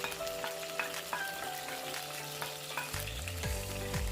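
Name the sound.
grated onions sautéing in hot oil with spices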